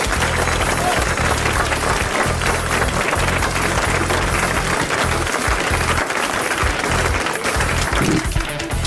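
Sustained applause from a large French television studio audience, dense and steady clapping for the whole stretch, loud and close, easing slightly near the end.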